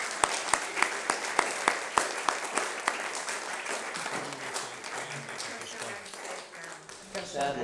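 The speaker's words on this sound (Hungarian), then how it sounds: "Nagy tapsot kérnék" An audience at a talk about the Bible breaks into loud, sustained applause. A few distinct claps lead into a dense wash of clapping that continues throughout.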